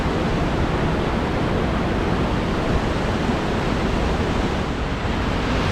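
Mountain creek water pours into a deep hole in a steady, dense roar of rushing water, loud and close, with no other sounds.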